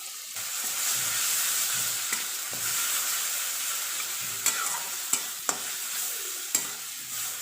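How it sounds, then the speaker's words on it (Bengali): Flat bean paste with sugar being stirred as it fries in a pan: a continuous close sizzle with periodic sharp scrapes and taps of the spoon against the pan, no voices. "এবার এটা ভালো করে নাড়তে হবে"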